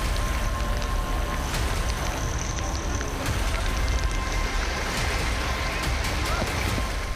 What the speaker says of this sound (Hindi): जल प्रवाह इतनी तेज कि जो भी सामने आए वो समा जाए।